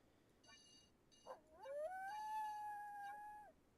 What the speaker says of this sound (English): That's a really low quality wolf howl.